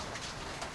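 Steady rain falling, a dense, even hiss of drops on a surface, close and continuous throughout the short moment with no voices.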